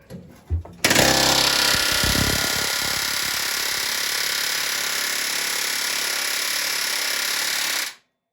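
Hot riveting on a Bren carrier: after a couple of knocks, a pneumatic rivet hammer fires up in a loud, rapid continuous hammering close by, holding for about seven seconds before stopping abruptly.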